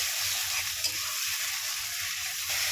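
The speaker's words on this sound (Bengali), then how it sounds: "কষিয়ে নেবো ভালো করে।" Spice paste with tomato, salt and turmeric sizzles steadily in a pan while being stirred, a continuous hiss with occasional soft scrapes.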